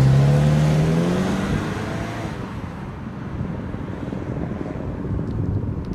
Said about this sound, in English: It's a little bit loud on the inside, so the road noise is about the same.